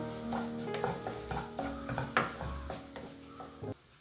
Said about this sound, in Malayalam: ഇനി നമുക്കിതിലേക്ക് മേത്തി ലീവ്സ് ഒരു 1/2 ടീസ്പൂൺ ചേർത്ത് കൊടുക്കാം. അതും ഇതിനോടൊപ്പം നല്ലപോലെ യോജിപ്പിച്ചെടുക്കാം.